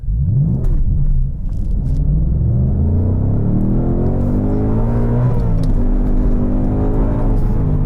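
A 2022 Ford Mustang Mach 1 accelerates hard on a timed run, its loud engine rumbling and rising in pitch through the gears, close and steady, with no talk.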